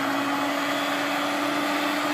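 An electric mixer whirs through cake batter with a steady, loud motor hum and a constant high whine, unbroken and close throughout the short span.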